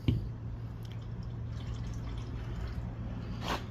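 Oil drips from a Polaris Xpedition during an oil change, a faint close patter of small drops over a low steady hum, with one brighter splash near the start and another near the end.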